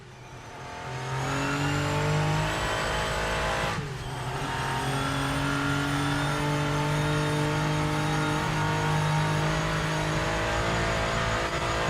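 A Porsche engine in a racing video game revs hard and steadily, its harmonic tone climbing and dipping through gear changes, with a brief dip near the four-second mark and continuous loud drone throughout.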